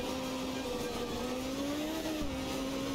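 A 1982 Group B rally car with a 1.8-liter engine drives in the game art of rally, its engine drone holding steady then rising and easing slightly, loud and continuous, with no talking.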